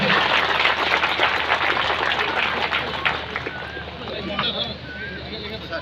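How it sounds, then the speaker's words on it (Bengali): Crowd of workers applauding at a ceremony at a denim factory, Natural Denims Ltd, a dense continuous clapping that swells and thins, with voices mixed in. "আমরা সজোরে করতালি দেই দুই হাত একসাথে করতালি দেই"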